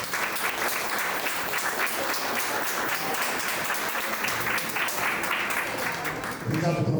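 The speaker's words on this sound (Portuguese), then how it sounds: "Uma salva de palmas, por gentileza." Audience at a São Paulo city drainage-guidelines launch event gives a steady round of applause lasting several seconds, fairly distant and even, fading out near the end as a voice begins.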